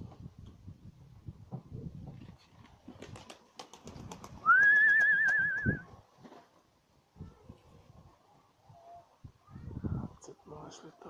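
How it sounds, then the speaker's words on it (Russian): Domestic pigeons flutter down to feed, with faint wing and shuffling sounds, a brief whistling tone, and a person talking quietly nearby. "Голуби слетают на еду."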